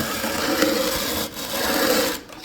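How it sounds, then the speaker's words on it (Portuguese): A hand coffee mill grinding coffee at a museum house, a steady close gritty rasping churn that runs almost continuously with a short dip midway. "Para quem nunca moeu o cafezinho, coloca o cafezinho aqui dentro, ó, e aí vai ter essa experiência"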